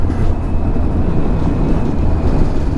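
A Yamaha Niken three-wheeled motorcycle rolls over railway tracks, its engine and wind roar loud and constant with low rumbling from the bumpy crossing throughout.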